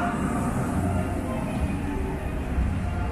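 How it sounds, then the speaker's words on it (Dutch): A small theme park train arrives at Phantasialand with a continuous rolling rumble and mechanical clatter, fairly close and steady. "Ja, er komt een treintje aan, mensen."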